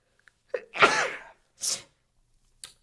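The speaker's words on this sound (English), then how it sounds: "So please forgive me if I'm like sneezing and stuff." A person sneezes once, loudly and close by, with a short breathy intake just before and a quieter sniff or half-sneeze following, then a brief faint snort at the end.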